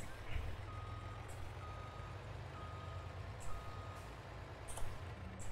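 A truck's reversing alarm in Farming Simulator 22 beeps faintly at a steady interval over a low, constant diesel engine rumble while the vehicle is backed into a parking spot, with occasional brief clanks.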